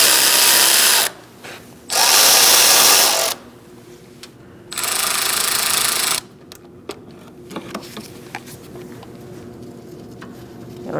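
A power tool with a long 13mm socket removing a strut bolt on a 2016–2019 Chevrolet Cruze, loud close bursts of high whirring in three runs with short pauses, then quieter clinks and handling noises.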